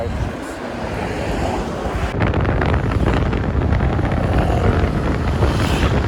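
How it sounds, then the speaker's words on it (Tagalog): Sea waves and wind at a beach in the Philippines, a steady broadband wash with wind buffeting the microphone that grows louder partway through, loud and close throughout, with no voices. "Ayan na ang dagat."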